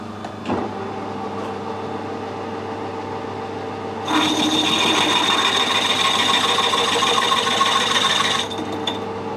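An 18mm drill boring into metal on a lathe, a steady grinding rasp that starts abruptly partway through, runs loud and continuous for several seconds, then stops, over a constant machine hum.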